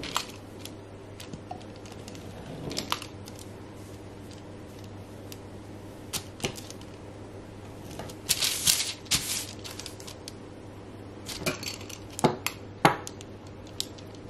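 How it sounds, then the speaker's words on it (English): A pizza roller scores sheets of keto cracker dough on a hard surface, giving scattered light taps and clicks with quicker bursts of rolling contact over a faint steady hum. "a pizza roller works perfect"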